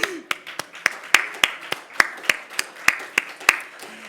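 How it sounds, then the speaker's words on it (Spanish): Sparse, evenly spaced claps ring out one after another at a regional education conference panel, a small group clapping slowly and rhythmically rather than full applause. "Un aplauso."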